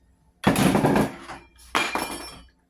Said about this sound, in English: Oops, I dropped my spoon.